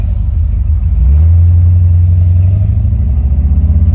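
An old car with a weak battery at 11.2 volts drives along, its engine giving a loud, steady low rumble that swells into a heavy drone about a second in and holds.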